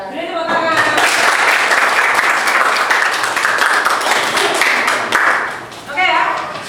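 A classroom of students bursts into a full round of applause after a group presentation, dense and loud for several seconds, briefly dipping before a final swell, with voices mixed in.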